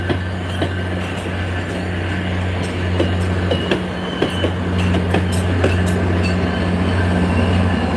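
An MBTA subway train rumbles along the rails during rush hour, with a steady low roar and repeated clickety-clack wheel beats and sharp clicks over the track joints, loud and close throughout and without any talking.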